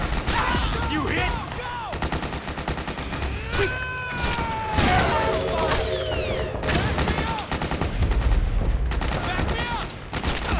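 Battlefield gunfire in Metal Gear Solid 4: Guns of the Patriots, with dense bursts of rapid machine-gun fire and scattered shots mixed with shouting voices and whistling effects, loud and nearly continuous.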